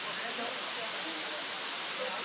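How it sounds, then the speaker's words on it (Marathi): Waterfall beside a temple, water plunging forcefully in a dense, unbroken roar that stays loud and steady throughout. "किती फोर्सफुली पाणी पडते"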